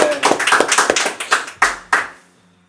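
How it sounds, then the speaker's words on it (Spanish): Scattered hand claps from a small audience at a Spanish-language comedy talk show, sharp close claps in an irregular run that thins out and stops. "un aplauso, por favor, para Rodrigo."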